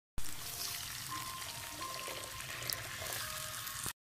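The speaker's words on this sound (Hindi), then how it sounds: "इसके अंदर हम थोड़ा सा पानी डालकर चिकन डालेंगे" Water is poured into hot chicken karahi masala that is releasing its ghee, giving a continuous hissing, sizzling pour of about four seconds that starts abruptly and cuts off cleanly.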